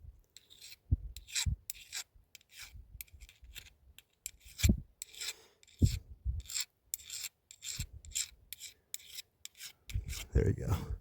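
A file rasps a burr off the steel locking block of a Panzer EG200 shotgun, close-up in short, irregular strokes separated by brief pauses.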